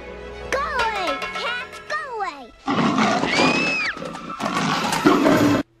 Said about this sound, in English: Are those cats roaring?